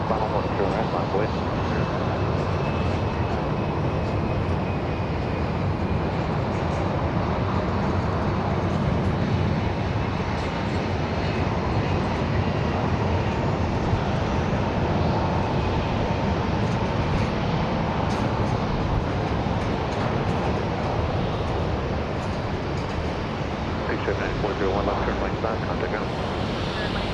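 A King Air turboprop on five-mile final into Dallas Love Field on a hazy night, a steady distant engine drone with wind noise, constant and unbroken across the clip.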